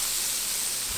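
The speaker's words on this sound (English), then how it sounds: "I got my rice frying in the oil and chicken fat." Rice frying in oil and chicken fat in a single cast iron pan over medium-high heat with tomatoes, giving a steady, even hissing sizzle, soft and continuous.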